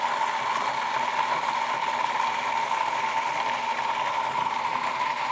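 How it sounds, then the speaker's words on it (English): A blender runs steadily, whirring as it purées avocados for a chocolate avocado mousse, with a constant motor hum and no talking. "Yes, we do blend the avocados first."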